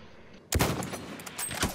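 Gunfire in the video game Battlefield 1 bursts in after a half-second of near silence, a loud close volley with a rapid string of follow-up shots and trailing reverberation.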